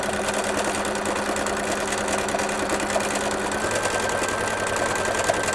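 A sewing machine stitches cream colored thread to fill in areas of a fancy winter apron, a steady close mechanical whir that runs without a break and with no talk.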